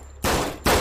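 Two pistol gunshots fire in the VR video game SURV1V3. They are loud, close, sharp blasts about half a second apart, with no talking.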